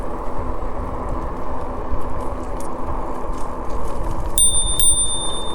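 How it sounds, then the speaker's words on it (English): A bicycle bell on an ebike ride rings twice in quick succession, bright and close, over a steady rumble of wind and road noise. "There's that bell."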